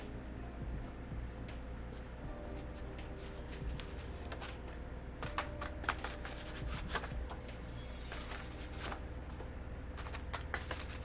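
Tarot cards are shuffled repeatedly, giving soft riffling and sharp little clicks over a steady low background hum, quiet and close.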